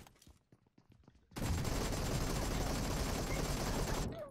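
Sustained burst of Groza rifle fire in the mobile game PUBG Mobile, loud and dense for about three seconds after a few lighter shots, close and without talk.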